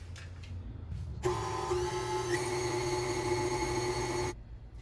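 Electric mixer beating creamy peach cake batter, a steady high motor whine that starts abruptly, runs evenly for about three seconds close by, then cuts off.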